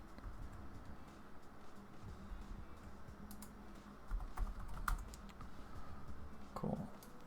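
Quiet typing on a computer keyboard during a coding session, a soft continuous patter of key clicks with a few louder taps, close but low in level.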